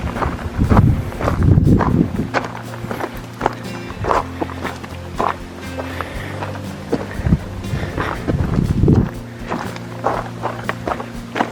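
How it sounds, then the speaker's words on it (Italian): Wind gusts buffet the microphone in low, blustery bursts on a mountain lake trail in the Lagorai range, with footsteps and scuffing sounds mixed in. "tira un po' di vento, in questo lato un pochino freschino"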